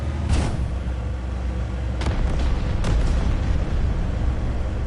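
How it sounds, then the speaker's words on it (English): Explosions in The First Descendant video game: a dense, continuous rumbling wash with several sharper bursts standing out, loud and sustained throughout. "I'll just follow the sounds of explosions."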